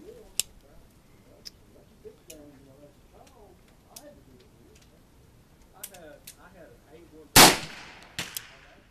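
A French Ordnance revolver fires once with a sharp, fairly weak crack followed by a smaller report, standing out loudly after quiet talk between people.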